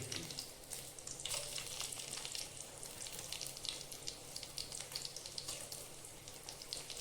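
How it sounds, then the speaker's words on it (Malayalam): Mustard seeds spluttering in hot oil with chillies going in, a faint, dense sizzle with rapid tiny crackles and pops running steadily throughout. "കടുക പൊട്ടി വരുന്നു"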